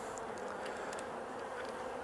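Honey bees buzz inside a three-frame nuc hive, a steady, close droning hum with no breaks, faint and continuous with a few brief higher flickers.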